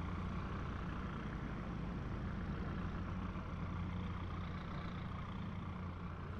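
McLaren 570S GT4 race car engine in the iRacing game, a dense, low, rough drone like a tractor, held steady and loud throughout.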